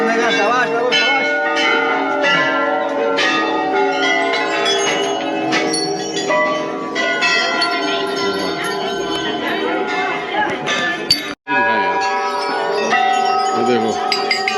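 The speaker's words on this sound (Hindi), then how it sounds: "ये जो घंटियों की ध्वनि से जो माहौल बना हुआ है काफ़ी पॉजिटिव और अलौकिक वाइब आ रही है।" Many temple bells ring together at Jageshwar Dham, making a dense layer of overlapping metallic chimes that stays loud and continuous. Faint crowd noise sits underneath.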